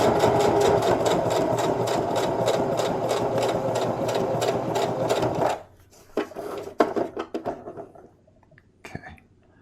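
A sewing machine stitches through a double layer of fabric in a fast, even, rhythmic run for about five seconds, then stops, followed by scattered clicks and rustles of fabric being handled.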